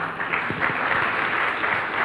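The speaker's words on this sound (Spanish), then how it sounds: "Vamos a aplaudirlo a Cortázar." Brief burst of clapping from a small audience, moderately loud and continuous for about two seconds.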